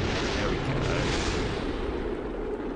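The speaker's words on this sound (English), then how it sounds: "I'm hoping that everything explodes." Rocket parts blowing apart in Kerbal Space Program: a dense, continuous roar of rumbling explosions, loud and sustained throughout with no gaps, with no voices over it.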